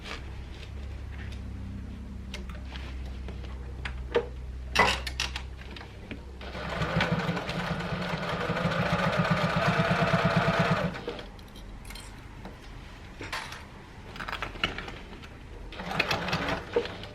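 Sewing machine stitching two rows around the top of an Ethel tote bag: a few soft clicks, then a steady, fairly close mechanical whir of several seconds before it stops, followed by more quiet handling clicks.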